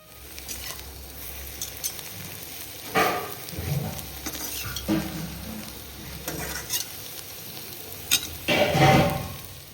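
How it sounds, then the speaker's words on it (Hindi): Spiced samosa filling roasts in a pan, a steady low sizzle broken by scraping stirs and louder bursts of frying near the start and end, heard alone at close range. "ये जो समोसे का भरावन होता है ना, इसको काफ़ी देर तक भूनना पड़ता है।"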